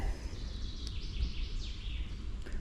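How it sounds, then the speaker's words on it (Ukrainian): Birds sing in a sunny summer forest where mushrooms grow, several high chirping phrases rising and falling over a low rumble of wind, moderately close and unaccompanied by talk. "Пташки гарно співають, дивовижно сьогодні."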